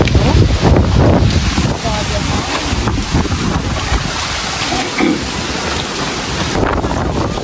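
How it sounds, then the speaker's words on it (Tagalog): Strong wind buffets the microphone in loud, uneven gusts while fishing, with a roaring rush that swells and dips throughout. "Grabe, lakas po ng hangin."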